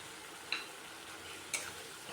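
A spoon scrapes twice through fried potatoes and spices in a wok, two soft isolated strokes over a steady low sizzle of oil, close and quiet.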